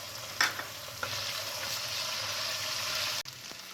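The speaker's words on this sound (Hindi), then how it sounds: "ये देखें, थोड़ा सा हमने लहसुन और अदरक को फ्राई कर लिया।" Garlic and ginger frying in about half a cup of oil for white chicken biryani, a steady close sizzle with a few stirring clinks and scrapes, no talking.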